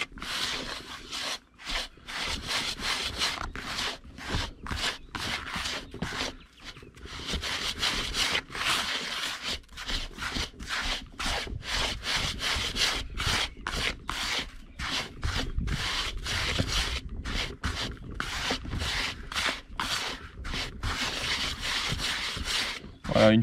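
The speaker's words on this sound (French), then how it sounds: "une fois qu'on a fini de mélanger les farines" Dry flours, including toasted ones, are mixed by hand for homemade fishing groundbait, producing a close, continuous rough rubbing and scraping in rhythmic strokes for over twenty seconds.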